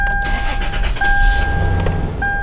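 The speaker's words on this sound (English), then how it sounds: "So I'm gonna start the motor." Car engine cranking and starting up during IAC valve testing, a loud low rumble settling into idle alongside chime-like warning tones.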